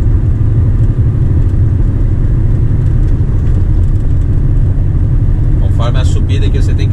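A Volvo truck engine works hard under full throttle while climbing uphill, a loud, close, steady low drone with a brief higher-pitched sound near the end.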